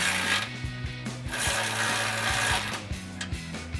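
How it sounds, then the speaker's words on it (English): Ratchet with a 19mm socket tightening bumper hardware under a Jeep Wrangler JK's RedRock HD tubular front bumper, giving a steady run of rapid close clicks in several strokes, loud and alone. "take a 19mm socket to tighten down your hardware"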